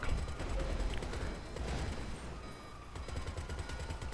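Rapid, continuous machine gun fire in GTA 5 Online with dense repeated bursts, loud and close, with mechanical clatter and no voices.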